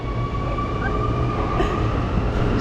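A metro train at a station in Medellín hums and rumbles loudly and steadily, with a faint high wheel squeal and light clatter close by.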